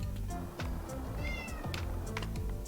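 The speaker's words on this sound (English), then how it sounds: "So if you hear a cat in the background, that is why" A pet cat named Bug meows repeatedly indoors, several close, clear meows in quick succession with no talk over them.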